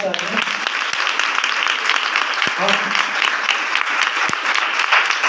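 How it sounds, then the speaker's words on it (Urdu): Loud, dense applause from a congregation at a gospel church service, sustained hand-clapping filling the whole stretch, with a voice briefly audible over it. "زوردار تالیاں"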